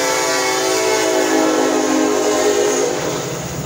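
A loud, sustained BNSF freight train horn blares continuously, with a low rumble of rolling wagons underneath and no voices.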